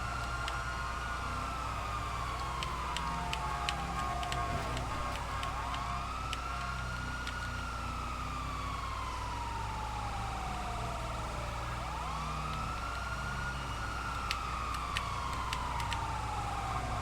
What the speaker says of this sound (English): I want to hear those siren blimps and horns.